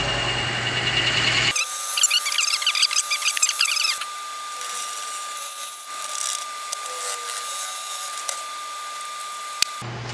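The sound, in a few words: wood lathe drilling with Forstner bit at 600 RPM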